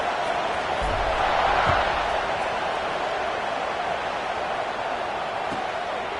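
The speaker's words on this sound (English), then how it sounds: "this crowd is buzzing after that last score" Stadium crowd noise in the NCAA 26 college football video game, a steady broad roar with a swell of cheering early on and a few faint thumps beneath, ahead of a kickoff.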